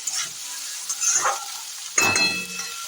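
Snails and onions sizzle and crackle in a pan while a utensil scrapes and stirs in short bursts, moderately close.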